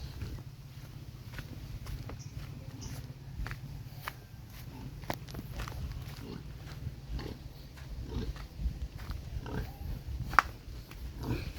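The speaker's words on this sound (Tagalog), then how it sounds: "Ang baboy." Low, rumbling pig grunts continue throughout, mixed with shuffling and scattered clicks nearby.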